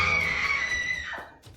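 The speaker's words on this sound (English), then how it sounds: "when suddenly a woman's scream is heard" A woman's scream rings out in a scary video, sustained and shrill before breaking off abruptly, heard alone at moderate loudness.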